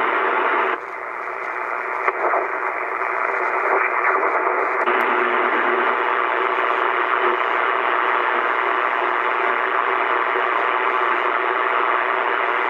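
A constant wash of loud radio static from an ICOM 720A HF ham receiver with a faulty attenuator fills the whole stretch, with a brief shift in tone early on before settling into steady hiss.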